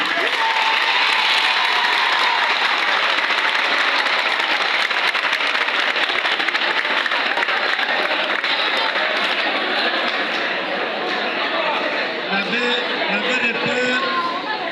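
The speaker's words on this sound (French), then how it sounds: "Une fois de plus, applaudissez alors" Students at a school conference at Collège Saint-François in Kikwit applaud loudly and steadily, a dense wash of clapping from a large crowd with chatter underneath that thins slightly near the end.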